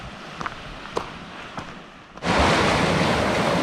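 Surf breaking on the small beach at Fish Cove on the Lake Superior shore near Copper Harbor, Michigan; a few faint clicks and wind at first, then a loud, steady wash of waves rushes in close and holds.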